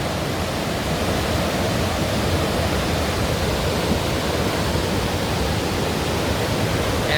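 Swollen river water raging after days of heavy rain in Thailand, a steady, loud broadband rush with no breaks, close by and with no other sounds.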